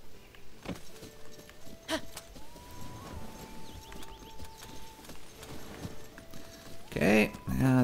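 Horse hooves clip-clop in a steady rhythm in the video game Zelda: Tears of the Kingdom, moderately close, alongside soft tonal game sounds, with someone briefly talking near the end.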